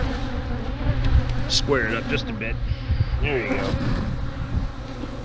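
Honey bees drone around a reassembled hive. The buzzing is a close, continuous hum under a man's speech, with wind rumble and a few louder passes of bees near the microphone.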